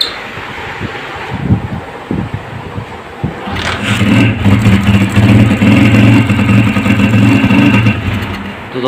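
A motorcycle engine is cranked and catches after a few seconds, then runs with an uneven, misfiring idle, loud and close.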